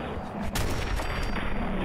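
Gunfire from a favored weapon in Fallout 4, aimed at a group of ghouls, rings out as dense, continuous shots with a sharp burst near the middle, steady and loud throughout.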